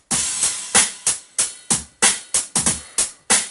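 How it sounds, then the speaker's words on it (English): A loud drum beat with bright, washy cymbal hits ringing over each stroke, in a steady driving pattern with no voices. "I added a crash cymbal and an extra ride as well"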